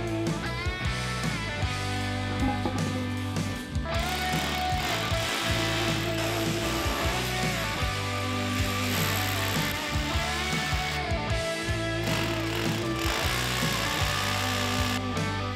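Loud, continuous power-tool whirring and grinding runs with no break, from a power drill boring holes for fence post mounting; no voices are heard.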